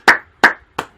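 Three sharp, close claps in quick succession, evenly spaced and each decaying fast, from a single person clapping rather than a crowd.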